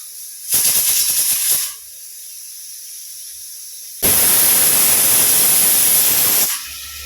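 Tomatoes sautéing in a hot pan, two loud bursts of harsh sizzling hiss, a short one early and a longer one later, separated by a quiet gap.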